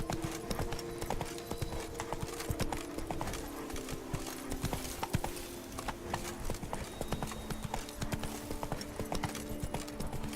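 Horse hooves clip-clop at a steady gallop rhythm in The Witcher 3: Wild Hunt, Blood and Wine, continuous and fairly close over a layer of ambient game sound, with no one talking.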